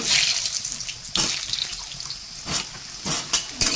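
Potatoes frying in hot oil with cumin and a bay leaf for jackfruit kofta curry, a close, continuous sizzle broken by sharp bursts of crackling as the pieces are stirred.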